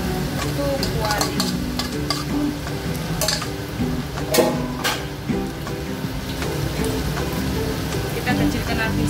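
Green chili fried rice with pandan leaves being stir-fried in a wok, continuous sizzling and frying with scraping stirs and clatter throughout, close and loud.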